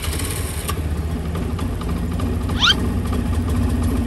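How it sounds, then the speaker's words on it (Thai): A Honda Scoopy scooter with a fault that stalls when the throttle is twisted idles with a steady low engine putter, close and continuous, with a brief high squeak near the end. "สกุปปี้เราสตาร์ทติดบิดไม่ได้นายลองสตาร์ทหน่อย"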